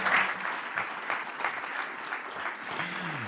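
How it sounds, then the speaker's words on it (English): An audience at a tourism conference applauds to welcome a Croatian journalist moderator, a sustained crowd of clapping hands that starts loud and gradually thins out, with a faint voice near the end. "ladies and gentlemen, clap your hands for a famous Croatian journalist"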